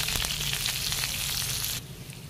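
Sliced onion and two dried red chillies sizzle steadily in hot oil in a pan, a dense close crackle with small pops that drops quieter near the end.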